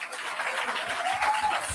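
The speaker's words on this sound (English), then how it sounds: "And you can hear the applause of people in the background." Audience clapping at a political speech, a soft continuous patter of many hands heard in the background for under two seconds.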